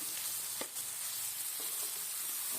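Chicken pieces sizzle and fry in a pan as they are stirred into a ginger-garlic masala for chicken pulao, a steady close hiss with a couple of brief scraping knocks from the mixing.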